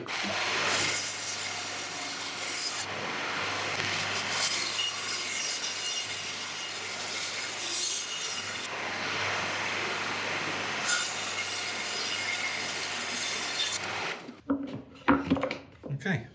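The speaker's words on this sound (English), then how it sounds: "We'll take this over to the bandsaw" A bandsaw cutting jarrah burl wood offcuts gives a steady, loud, close rasping whine for about fourteen seconds, then stops, followed by a few clunks and handling noises; a person talks briefly.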